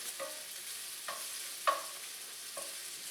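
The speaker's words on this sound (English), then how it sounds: "Nothing like cooking olive oil and prosciutto and all that good stuff." Olive oil and prosciutto sizzle in a pan for a pasta dish, a soft steady hiss broken by a few sharp clinks of a utensil stirring against the pan, quiet and close with no talk.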